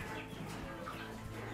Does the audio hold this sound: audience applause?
no